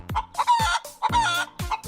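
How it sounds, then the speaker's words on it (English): A chicken gives several quick, close clucks in a short, choppy burst, clear and alone. "This is a chicken. The chicken says,"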